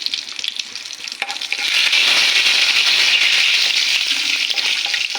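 Whole cumin seeds, bay leaf and two pieces of cinnamon hit hot oil for matar paneer, breaking into a loud, steady frying sizzle that swells after a crackly start and holds close and bright with no voices.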